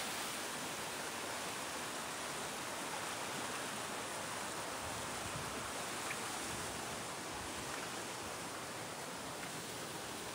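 Broadband rushing water of a dangerous waterfall along a steep trail, a steady, loud, unbroken roar filling the whole clip with no talk.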